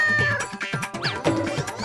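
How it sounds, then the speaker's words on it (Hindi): A cat meows repeatedly in loud, close, wavering cries, several overlapping calls in quick succession within a comedy scene. "कहाँ से आ रही थी बिल्ली की आवाज?"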